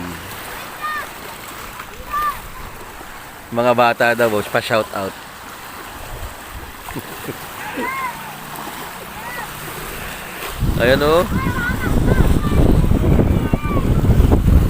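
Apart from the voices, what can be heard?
strong waves during a typhoon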